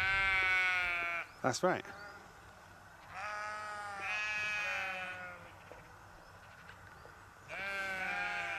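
Several loud, wavering sheep bleats come in bursts, close by on a farm, with a brief spoken remark between calls.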